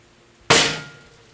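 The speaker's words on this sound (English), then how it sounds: "Before drilling, we need to start our hole with a starter punch." A starter punch is struck once against a metal grill lid to start a drill hole, giving a single sharp, bright metallic tap that rings and decays over about a second, close and alone.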